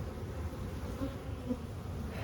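Honeybees buzz steadily at an open hive during an inspection, a continuous close droning hum with individual bees passing near, no talk.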